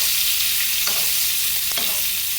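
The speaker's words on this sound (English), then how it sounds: "Keep basting, and we're going to do this for about 3 more minutes." Filet mignon sizzling loudly in a pan as it is basted, a dense continuous hiss with a couple of brief spoon scrapes, close and without talk.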